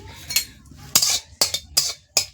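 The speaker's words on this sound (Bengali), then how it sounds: "এখন এগুলো আমি ভেজে নেব লঙ্কা দুটো দিয়ে দিচ্ছি" Dried red chillies with fennel, cumin and coriander seeds being fried and stirred in a pan for a sweet amra pickle, giving five sharp metallic scrapes and clinks of a utensil against the pan, evenly spaced and close.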